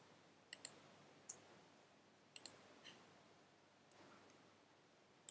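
Sharp, crisp computer mouse clicks, some single and some in quick pairs, spaced irregularly over a nearly silent background.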